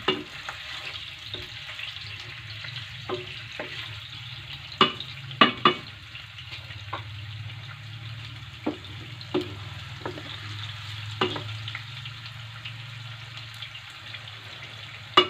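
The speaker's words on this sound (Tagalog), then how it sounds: "Ilagay natin yung ating onion. Ginamit ko ngayon ay white onion." White onion frying in a pan for a tuna carbonara, a steady soft sizzle with intermittent clinks and scrapes of stirring throughout.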